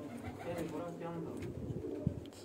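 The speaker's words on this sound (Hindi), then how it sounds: "कबूतर हैं ये मेरे घर के हैं" Household pigeons on a rooftop loft give low murmuring coos beneath faint voices, with a single sharp knock partway through.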